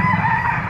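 A young yellow-legged bull stag gamecock crows at a livestock auction market in Padre Garcia, Batangas, one loud, close, sustained crow with no voices over it.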